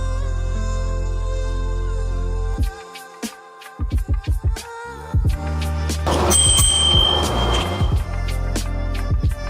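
A bicycle bell on a newly assembled HIMIWAY C5 e-bike rings several times, short bright dings in quick succession, close and loud over a steady low hum.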